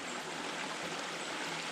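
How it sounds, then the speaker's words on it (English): A small active mountain creek on a foggy hike in a national scenic area flows steadily nearby, a continuous broadband rush and trickle with no breaks or voices. "here's an active creek right here"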